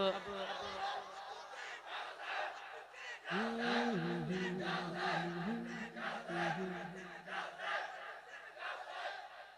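A crowd at a naat mahfil roars back in unison to a Takbir slogan call, a loud sustained group shout following a leading voice, over a reverberant hall with amplified speech.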